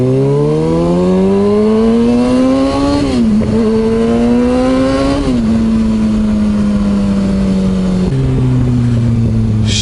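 A Kawasaki ZX6R sportbike engine revs loud and close, its pitch climbing steadily then dropping back in several rising pulls before settling to a steady idle-like drone, with no voices over it.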